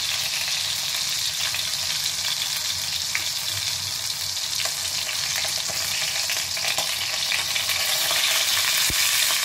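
A leg of lamb sears in a hot pan with a loud, steady frying sizzle that holds for the whole stretch, dense and close, with a few faint clinks of stirring.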